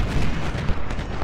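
Cannon artillery fire in the Civil War strategy game Ultimate General: Civil War, a dense, loud rumbling barrage of booming shots running together without pause.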